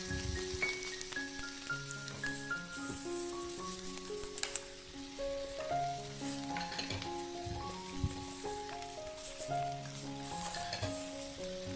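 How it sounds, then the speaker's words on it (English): Onions and chilies stir-frying in a pan for Nyonya fish: a steady soft sizzle runs underneath louder melodic background music throughout, with no voices. "We are going to stir fry the onions and the chilies for about, I guess, about 2 minutes."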